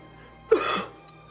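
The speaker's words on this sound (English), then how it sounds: "that's a very dangerous cough you've got there" A woman gives a single short, sharp cough, close and clear, against a quiet background.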